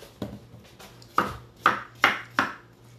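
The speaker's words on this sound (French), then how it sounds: "Donc, on coupe le zucchini." A knife chopping zucchini in a family kitchen: five crisp, separate chops, spaced unevenly and close by, over a faint low hum with no talking.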